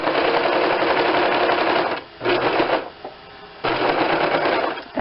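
A serger sewing machine stitches jacket hood fabric in fast, steady buzzing runs, loud and close, stopping briefly twice between bursts of stitching.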